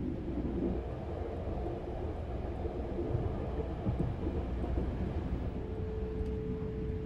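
A train rolling along its rails past farm fields, a steady low rumble with faint rhythmic clatter and a brief tonal whine near the end, continuous and unbroken.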